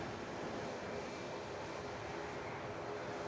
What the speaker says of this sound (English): Virgin A350 rolling out on 2-3 left.